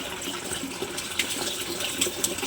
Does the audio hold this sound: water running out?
yes